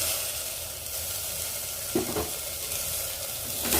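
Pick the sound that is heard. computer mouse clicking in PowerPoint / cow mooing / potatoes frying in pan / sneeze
potatoes frying in pan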